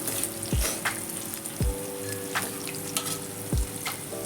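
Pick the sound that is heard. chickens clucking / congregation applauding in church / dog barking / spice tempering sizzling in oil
spice tempering sizzling in oil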